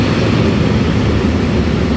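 POLREGIO regional passenger train coming fast into a station in Poland, a steady loud rumbling roar with broad hiss and no distinct clacks or horn, no talk.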